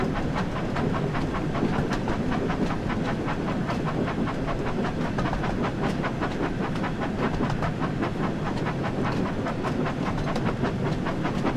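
A train on the West Somerset Railway, running a Thomas the Tank Engine timetable service, rolls past close by with a steady, continuous rumble and rhythmic wheel clatter over the rails, loud and unbroken throughout with no voices.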